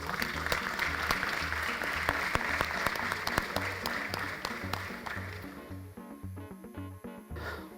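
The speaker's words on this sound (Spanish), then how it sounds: "un gran aplauso para él, por favor" An audience claps to welcome a guest onto the stage at a tech event in Mérida, a sustained round of applause with music underneath that fades out toward the end.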